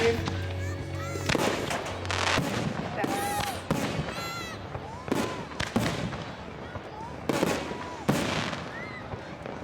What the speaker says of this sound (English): the double play is a double breaking shell. The first break is a display break. The second break is a boom.